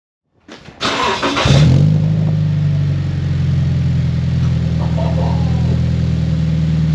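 A Scion FR-S fitted with an Invidia exhaust cranks over and fires up, then settles into a loud, steady, throaty rumble close by.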